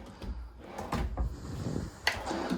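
Kitchen drawers in a 2026 Montana High Country 325RK RV slide open and shut, giving a few soft knocks and thumps with a sharper close near the end, quiet and close by.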